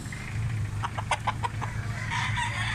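Roosters at a Cebu gamefowl farm give a short burst of clucks and crowing calls at moderate distance over a steady low background rumble, with no talking.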